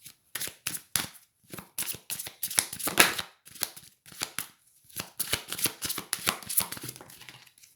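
Tarot cards being shuffled by hand, repeated crisp riffling bursts in quick irregular clusters separated by short pauses, close and fairly loud with no talk.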